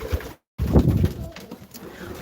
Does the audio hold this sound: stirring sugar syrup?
no